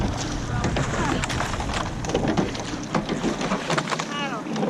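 A rowing boat being paddled on open water, with wind buffeting the microphone and rhythmic splashing strokes, while a coach calls out commands over the steady rush.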